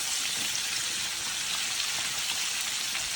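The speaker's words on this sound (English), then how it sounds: "Keep that chicken frying, and we're gonna let it cook a little bit longer." Chicken fries in a pan with a steady, dense crackling sizzle like light rain, close and even in level throughout the short stretch, with no voices.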